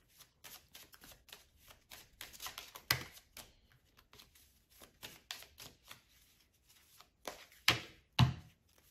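Oracle cards being shuffled by hand, a rapid series of crisp riffling snaps and flicks in irregular bursts, close and fairly quiet, with no speech.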